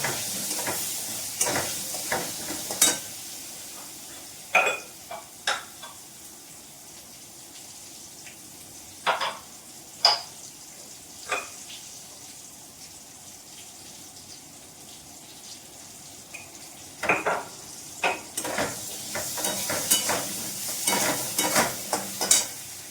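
Turmeric sizzling and frying in hot oil, with soft stirring and scraping through a steady crackle and intermittent sharper clinks; no talking.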